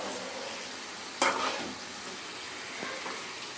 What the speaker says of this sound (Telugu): చికెన్ వేగిందా లేదా చూద్దాం వేగిపోయినాయి చూడండి గోల్డ్ కలర్లో వచ్చాయి కదా చక్కగా క్రిస్పీగా